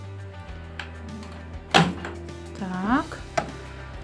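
A Sharp R200WW microwave oven door clicks open with a sharp latch thunk, followed by a rattling creak, close by, with a voice speaking briefly.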